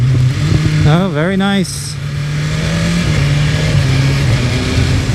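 A BMW S1000RR sport motorcycle idles close by, then its engine gives a few quick automatic throttle blips, each rev spiking sharply and dropping back, followed by a steady idle; someone speaks briefly over the revs.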